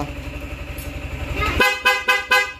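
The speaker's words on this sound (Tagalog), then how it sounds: "ngayon, subukan natin yung loud horn" A loud, sustained car horn blares, then cuts into three short, sharp honks in quick succession, close by.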